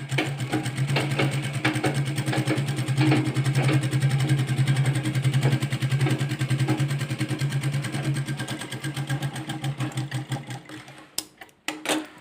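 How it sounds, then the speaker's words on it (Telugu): A sewing machine stitches fabric in a long, steady, close whirring run of rapid needle strokes, slowing and stopping in short bursts near the end, with no talk. "దీన్ని కుట్టు వేసుకోవాలి"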